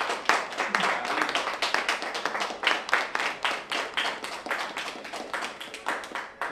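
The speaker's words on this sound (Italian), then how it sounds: "Vi prego di fare un grande applauso al personale di" A small group claps for the dining room staff at an award ceremony held in a Turin restaurant, steady rhythmic hand claps that are close and fairly loud, running without a pause.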